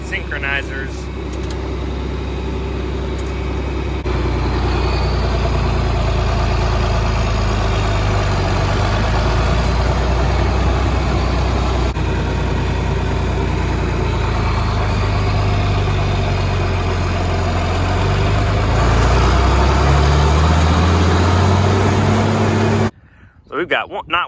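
A heavy tractor engine idles loudly and steadily for a long stretch, its low rumble shifting slightly in pitch near the end before briefly dropping out.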